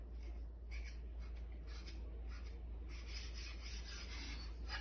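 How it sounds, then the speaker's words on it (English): A knife saws through a banana sandwich with repeated soft rasping strokes in an even back-and-forth rhythm, close and quiet over a low steady hum. "Now you can cut it carefully"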